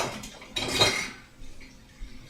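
Mushrooms pushed around a pan with a spatula, giving a short burst of scraping and light metallic clinks before fading to quiet.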